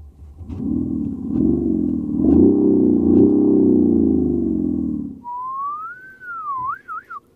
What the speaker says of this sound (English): I want to show you a special feature here of the 6-cylinder called Progressive Sport Sound.